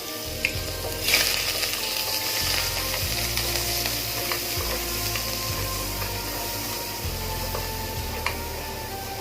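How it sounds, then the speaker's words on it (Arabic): Onions frying in oil for a minced meat pasta tagine: a steady sizzle under a repeating low mechanical whir with faint clicks, close and fairly loud, with no speech. "هنحط شويه زيت، وبعد كده هننزل بالبصل"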